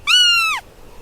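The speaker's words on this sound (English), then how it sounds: "Right beneath its feet, tiny chirps echoed from the dark cavity." A single high, thin crying chirp from a jackal pup hidden in a dark cavity beneath rocks, lasting about half a second, close and clear, then quiet.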